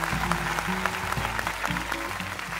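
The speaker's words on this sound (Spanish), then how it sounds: "por eso se llevan el aplauso" An audience applauds a folk group on a televised talent show audition, dense continuous clapping with a few sharper claps and a faint tonal backing underneath, sustained at even loudness.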